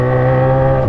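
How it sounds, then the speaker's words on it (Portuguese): Many motorcycles crowd a street in heavy traffic during a fuel shortage. Their engines make a loud, steady, close drone of overlapping hums. "Olha o tanto de moto."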